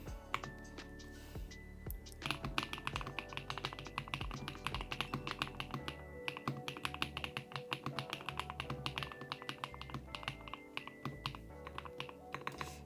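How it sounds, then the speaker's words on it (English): Rapid typing on a computer keyboard, with dense, close clicking keystrokes running almost continuously in quick bursts, alongside background music and no talking. "But for now, I'm trying to type fast."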